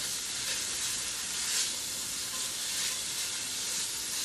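Carrots, celery and red and white onions with garlic sizzle in olive oil as they sauté for an Italian chicken noodle soup, a dense, even hiss of frying with no distinct stirring knocks.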